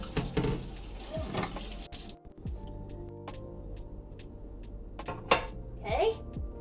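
A pan is washed in a kitchen sink, with running tap water, clattering dishes and scrubbing heard up close, then a quieter stretch with a few knocks and a final clank of metal, while a person talks.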